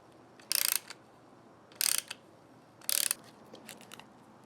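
Three short, close metallic ratcheting bursts with a faint click between them as a door handle insert is turned and pressed into place, otherwise quiet.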